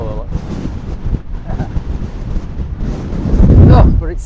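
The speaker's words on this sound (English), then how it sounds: "Oh, but it's still windy." Gusty wind buffets the microphone out on open fell country, a steady roar that swells toward the end, with people talking over it.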